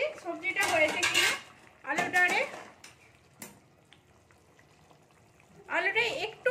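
Clanks and scrapes of a pot lid and utensils as a covered pot of simmering potatoes and cauliflower is opened and checked, a few loud metallic bursts separated by quieter kitchen sounds.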